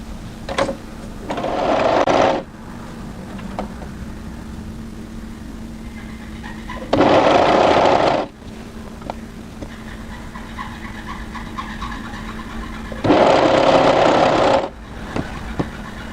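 A sewing machine stitches the sleeve of a winter tee dress in three bursts of about a second and a half each, separated by quiet stretches over a steady low hum.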